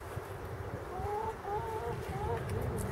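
Young chickens cluck and peep softly in a warm outdoor pen, a few short rising calls over a steady background hum.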